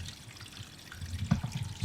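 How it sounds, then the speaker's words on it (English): Spring water runs and trickles at a historic pumping tower, a soft, close pouring and dribbling sound with a few louder splashes toward the end. "Obviously we've got a bit of running water"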